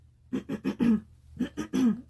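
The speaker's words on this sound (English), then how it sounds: "wait, I gotta clear my throat" A person clears their throat up close in two quick runs of short, rasping voiced bursts, each run ending on a longer drawn-out hum, with no talking.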